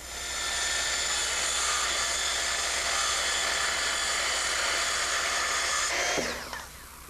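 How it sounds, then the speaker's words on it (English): A power saw cuts through 2x10 lumber for a deck beam, a loud, sustained high whine lasting several seconds that winds down at the end of the cut. "What I'm doing now is cutting the 2x10s that will form the beam that will support the upper deck"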